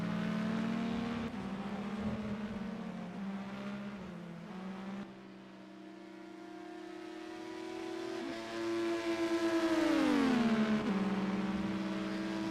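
IndyCar race car rolling down pit lane at Watkins Glen Boot in a racing game: a steady, droning engine note at limited speed that shifts pitch as it slows and picks up again, heard alone without talk.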